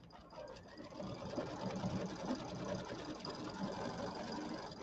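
Steady, close hum of a Luminaire XP1 embroidery machine, an original model with upgrades, stitching little quilted leaves into a fall settee pillow border, whirring continuously with a light rhythmic needle patter and no talk.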